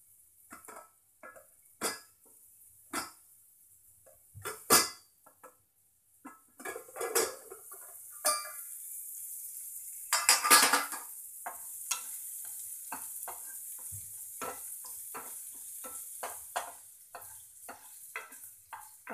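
Peas frying in a pan for matar paneer, with a soft sizzle underneath and repeated sharp clinks and scrapes of a metal spoon stirring against the pan, close and irregular.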